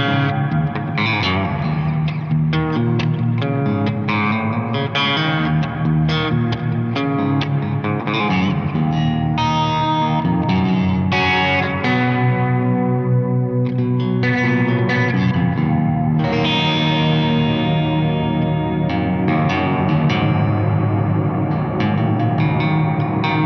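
Electric guitar run through a Walrus Audio Slötva reverb pedal, sustained chords and notes washing into a thick ambient reverb tail, steady and fairly loud with no talking.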